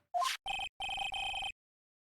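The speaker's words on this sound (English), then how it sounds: "Hey, Nick, your cell phone's ringing." A cell phone rings in short electronic bursts, a brief rising chirp followed by three sustained ringing tones with small gaps between them, clear and moderately quiet against a silent background.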